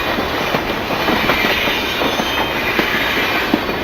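A steam engine rolls steadily along rails toward a work shed, a continuous loud rumble with faint rhythmic clicks from the wheels and no voices.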